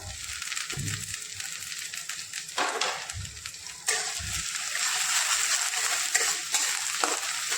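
Chopped onion sautéing with green chilli and curry leaves in a pan for masala rice, steady hiss and sizzle with occasional stirring scrapes and soft clinks, close and continuous, no talk.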